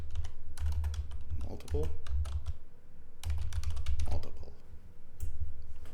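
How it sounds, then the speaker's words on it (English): Typing on a computer keyboard, rapid clustered key clicks in quick bursts with short pauses, close and clear, while someone talks over it. "I'm kind of curious just to type in read"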